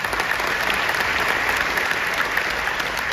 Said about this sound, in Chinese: 真的借助你们掌声给他们。